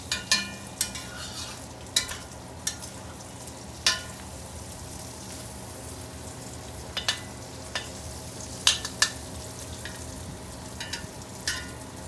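Green beans fry and crisp in a pan with a steady soft sizzle, punctuated by scattered utensil scrapes and taps as they are stirred, close and moderately quiet.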